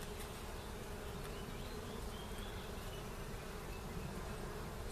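Honey bees buzz steadily and densely around an open hive during a spring brood box inspection, a faint, continuous droning hum with no pauses and no talking.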